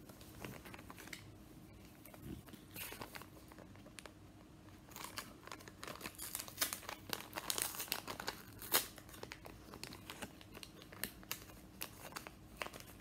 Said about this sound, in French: Bon, je déchire hein, parce que le papier il a dû coller,